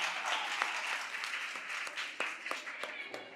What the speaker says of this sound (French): Applaudissez pour toute l'équipe de chaque excellence.